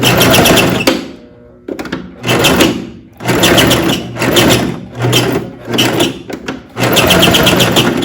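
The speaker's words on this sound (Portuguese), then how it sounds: "com uma costura com ponto reto. Vou dar um retrocesso." A sewing machine runs a straight stitch along a long fabric strip for a sash belt, with loud, close motor bursts broken by short pauses where it reverses to backstitch.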